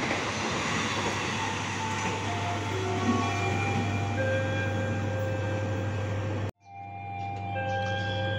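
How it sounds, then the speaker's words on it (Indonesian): A passenger train, the KA Tambahan Pasar Senen–Lempuyangan in Indonesia, passes close by with a loud, steady rumble and metallic squealing tones. The sound cuts off sharply near the end, then resumes. "Kereta api yang melintas nanti ini adalah kereta api KA Tambahan Pasar Senen Lempuyangan"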